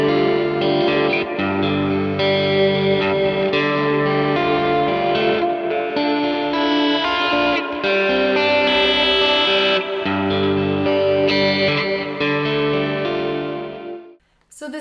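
Electric guitar played through a Neural DSP Mateus Asato Archetype on the Dancing with the Falcon preset, with a lush, chorused, lightly driven tone and reverb. Sustained chords and melodic lines ring continuously and loudly, then stop abruptly near the end.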